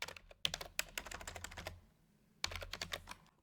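Close computer keyboard typing in quick bursts of rapid key clicks, a short pause in the middle before another flurry, quiet and with no talk.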